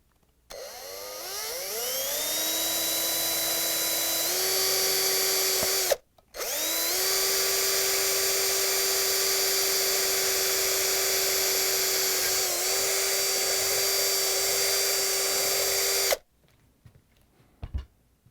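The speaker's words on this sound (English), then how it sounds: "now we're going to use the power drill with a drill bit" A power drill whines loudly and steadily, pitch rising as it spins up, with a brief pause before running on again and then stopping, drilling out a cotter pin on a refrigerator caster wheel.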